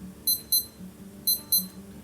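A Casio A178WA digital watch alarm gives two pairs of short, high, sharp beeps in a quick double-pulse rhythm, close and clear over a quiet background.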